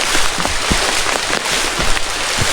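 Rain pours down on a mountain trail, a loud, steady hiss of drops with scattered heavier patters and thumps against nearby surfaces, wet and close throughout.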